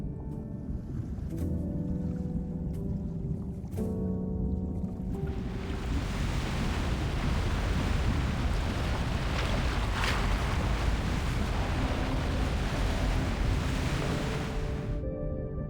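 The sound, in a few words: ocean waves in video game Love and Deepspace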